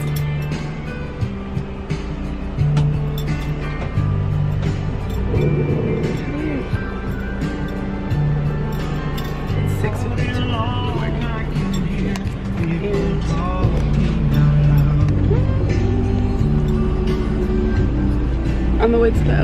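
Bus driving on a road in Thailand, a continuous low engine rumble and road noise from inside the cabin, with people talking over it throughout.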